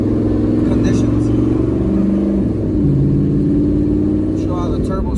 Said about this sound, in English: Show how the turbo sounds